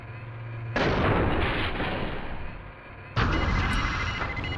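Cannon fire in the Steel Battalion video game against a destroyer: two heavy, booming blasts, each followed by a long rumbling roll. They are loud and close, with no talk.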